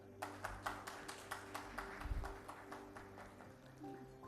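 Audience at a business excellence award ceremony gives a thin, steady round of hand claps, sparse and regular rather than a full ovation, fairly faint in a large hall with a low hum underneath.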